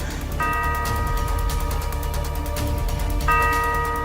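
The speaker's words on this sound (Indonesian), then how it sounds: "Kenapa jam itu bunyi terus? Dia nggak berhenti-berhenti bunyi." A clock chimes with ringing bell-like tones, struck twice about three seconds apart, each strike sustaining over a quiet, hollow room background.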